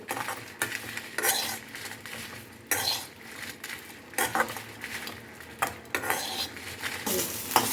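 Green chillies and dried red chillies fry in a pan for coconut chutney, giving a steady soft sizzle under repeated metal clinks and scrapes of stirring, with no talk.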